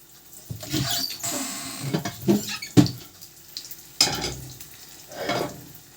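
Dough sizzles and crackles in a hot frying pan, seam side down, with scraping and shifting noises in bursts as it is moved around, close up.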